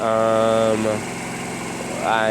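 A Honda CB250 cafe racer motorcycle engine idles steadily and close by, with a low rumbling putter and a slight rise in pitch near the end.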